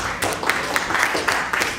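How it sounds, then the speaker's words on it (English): An audience claps for volunteer subjects on stage at a hypnosis show, a steady patter of moderate applause with sharper individual claps standing out. "Give our subjects here on stage a nice round of applause."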